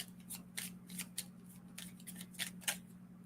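A deck of cards being shuffled close up, a quick series of soft riffling flicks and snaps at a quiet level over a faint steady hum.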